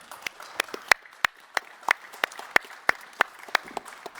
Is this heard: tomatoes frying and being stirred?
no